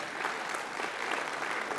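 A conference audience at a Liberal Democrat gathering breaks into a dense, steady burst of applause, many hands clapping at once in a continuous wash of sound.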